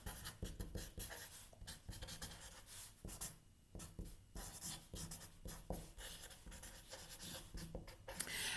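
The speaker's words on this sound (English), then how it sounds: "Let me make sure that I write this." Someone writes on a board in short, scratchy strokes that start and stop unevenly, quiet and close, with brief pauses between words and no talking.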